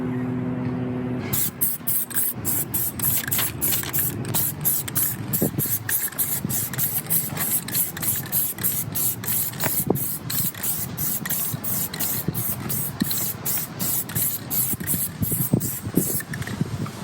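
Aerosol Plasti Dip hisses out in long, steady bursts as it is sprayed over the chrome trim of a 9th-gen Honda Civic Si, loud and close with brief breaks between passes and no talking.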